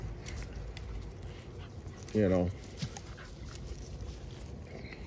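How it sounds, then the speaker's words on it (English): An American Bully dog gives a single short, high whimper, close by and brief, amid steady background noise and someone talking. "And this is the BGK dog."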